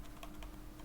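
Quiet computer keyboard keys tapped while code is typed, a handful of soft clicks in an uneven rhythm over low room hum.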